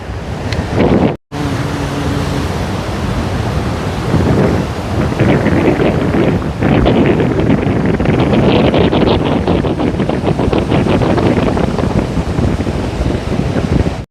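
Loud sea waves roar continuously at Devgad with heavy wind buffeting close by, a brief silent gap near the start.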